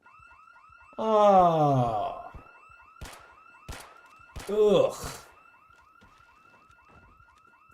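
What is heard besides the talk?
car alarm going off in Project Zomboid video game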